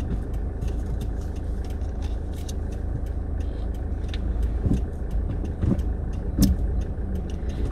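A car drives through a roundabout, its engine a low steady rumble under cabin and road noise, with occasional clicks and small knocks rising above the constant drone; nobody speaks.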